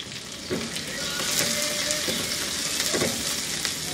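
Chopped onion and garlic fry on medium heat in a pan, making a loud, steady close sizzle with a few stirring scrapes.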